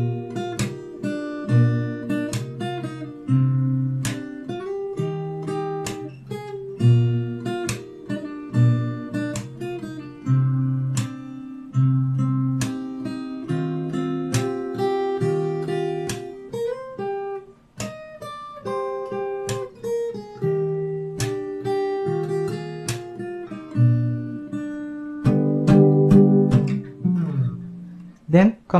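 Fingerstyle acoustic guitar playing a song, plucked melody notes over picked bass strings with occasional strums and slides, close and steady for nearly half a minute with no talking.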